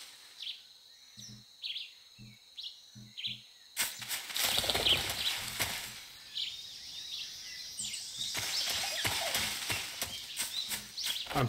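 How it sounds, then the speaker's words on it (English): Wing flaps of a bird in the stealth game Metal Gear Solid 3: Snake Eater, a few soft fluttering bursts with chirps and insect-like jungle ambience, followed by a denser rustle of game sound. "Oh, it's a bird."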